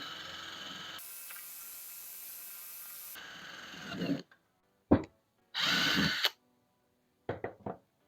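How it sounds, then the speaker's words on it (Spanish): A power drill fitted with a wood bit whirs steadily and bores a hole in a piece of wood, then comes several short bursts, clicks and a final whir, close up, with no talking. "voy a hacer un agujero en esta madera que tengo aquí."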